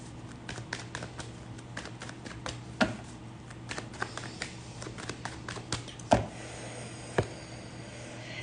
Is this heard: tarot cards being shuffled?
yes